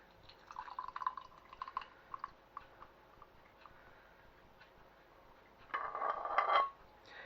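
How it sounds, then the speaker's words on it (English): Hot liquid poured back into a jug in a kitchen, faint drips and trickles at first, then a short, steadier pour toward the end, quiet and close. "we are going to pour this back into a jug"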